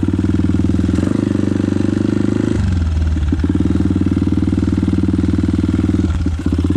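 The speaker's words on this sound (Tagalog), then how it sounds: "kaya naman ang motor natin." A motorcycle labouring along a muddy road, its engine chugging close and loud with a steady rapid thump, the pitch stepping down once before holding an even beat.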